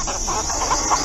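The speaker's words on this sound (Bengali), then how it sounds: "মোরগটা পাখনা নাড়তে নাড়তে মাটিতে নেমে কোঁক কোঁক শব্দ করতে করতে" A rooster clucks in a quick, steady run of short calls, close and fairly loud over a constant hiss, with no talk.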